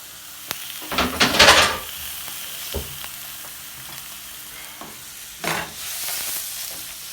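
Turkey testicles frying with paprika and onions in a pan, a steady sizzle broken by scraping stirs of a utensil, close and moderately loud.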